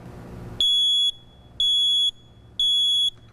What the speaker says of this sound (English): Smoke alarms should be tested once a month by pressing the button on the side, just like this.